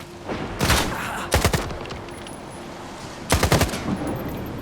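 An AK rifle in the Stalker 2 video game fires in automatic mode in three short, loud bursts of rapid shots separated by pauses.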